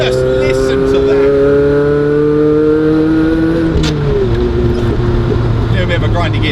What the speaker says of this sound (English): There's just something about the noise that this car makes